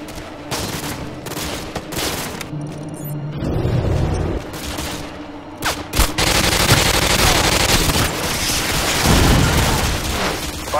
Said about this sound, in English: AGM missiles online.